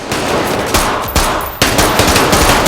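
Loud, dense gunfire fills an action film scene, with continuous automatic bursts and sharp new volleys cutting in at intervals and no talking.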